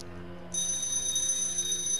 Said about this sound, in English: there goes our timer